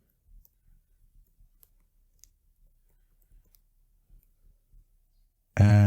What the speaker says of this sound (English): For example, I'm writing affiliate product link here.